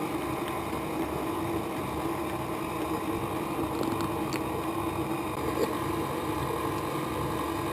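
A stand mixer with a dough hook kneads dough of flour, sugar, salt, dry yeast and whole eggs, giving a steady, even motor hum with a faint rhythmic churn, close and constant with no talk.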